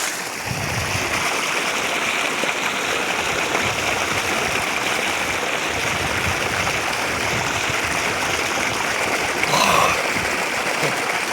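Water gushes steadily from a running water pump motor on a farm field, a close, constant broadband rush that continues without a break.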